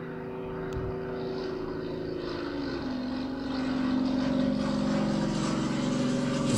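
Aircraft engines droning in a Warcraft III: The Frozen Throne match, a sustained tonal hum that shifts pitch partway through and grows slightly louder, with no talking.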